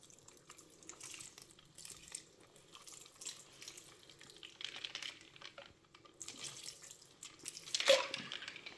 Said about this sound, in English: I'll add a little bit of water there.